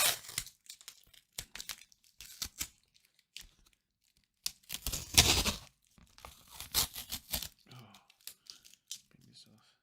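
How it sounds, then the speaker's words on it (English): Tape is peeled off a finished beach watercolor painting in several short ripping and crinkling bursts, some sharp and close, separated by quiet gaps, with a person speaking between them. "Take off the tape."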